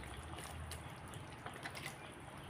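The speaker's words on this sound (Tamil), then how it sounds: "கொஞ்சம் பவுலில் கழுவி தண்ணி ஊற்றிடுவோம்" Steady water pouring and splashing from a bowl into a pot of green peas gravy, a continuous soft rush with small trickling accents throughout.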